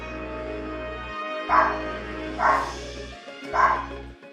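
A dog in the video game Genshin Impact lets out three short, loud yips about a second apart over a steady musical drone.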